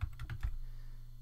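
Code is typed on a computer keyboard in a short burst of four or five quick, close key taps, followed by a low steady hum.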